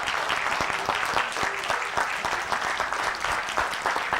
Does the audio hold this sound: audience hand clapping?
yes